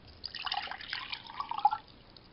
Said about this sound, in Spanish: En el agua destilada agregamos una taza.